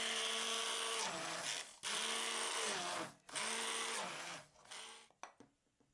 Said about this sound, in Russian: Перемешаем блендером.